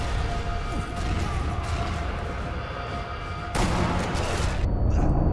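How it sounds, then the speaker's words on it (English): A grenade goes off in the World War II sniper game Sniper Elite V2, a sudden loud burst cutting in after steady rumbling gunfire, followed by a second sharp crack near the end. "let's use this grenade"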